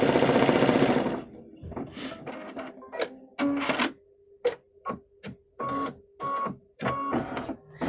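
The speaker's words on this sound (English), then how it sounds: "so I'm just gonna stitch that circle around there" A sewing machine stitching a circle on a fabric patch, running in short repeated bursts of rapid mechanical whirring separated by brief pauses.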